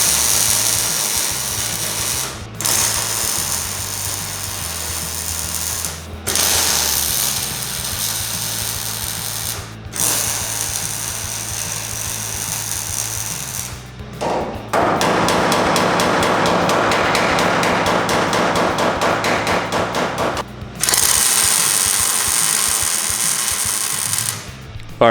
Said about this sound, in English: Let's get them plug welded in.